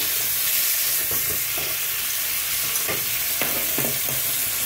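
Tomatoes and cumin sizzling loudly in a pan while a vegetarian banana-flower dish is cooked, a continuous hiss of frying broken by a few scraping stirs, close and steady with no talk.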